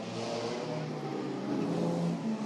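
A vintage Delage D6 Special race car engine drones steadily at moderate distance and swells slightly toward the end, a continuous motor note with no voices over it.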